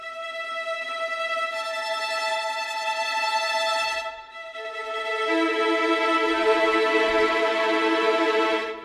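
Bowed strings sustain rapidly trembling tremolo chords, a shimmering, tense texture that briefly dips, then swells again with fuller, brighter harmony.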